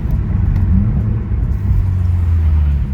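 A tuned BMW M340 with a big-turbo S58 engine accelerates hard on a drizzly road, its loud, steady low rumble and engine drone filling the cabin without a break and without any talk.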